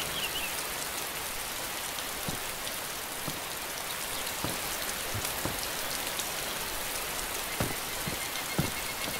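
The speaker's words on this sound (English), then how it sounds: "collect a bit of water now that it is raining" Steady rain patters across a surface in a video game, with scattered louder drops tapping irregularly over a constant soft hiss.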